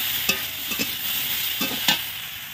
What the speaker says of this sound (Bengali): আমি গরম জলটা দেবো এই তরকারির মধ্যে